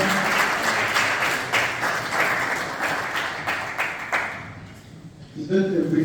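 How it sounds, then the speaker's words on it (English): Audience applause for a speaker at a public lecture on climate at Makerere University, a full steady wash of clapping from a large crowd that fades out, followed by a voice speaking. "Another round of applause for our speaker."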